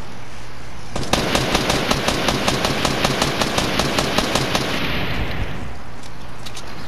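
Automatic gunfire in a PS4 shooter video game, played with keyboard and mouse: a long rapid, evenly spaced burst of shots over a low background hum.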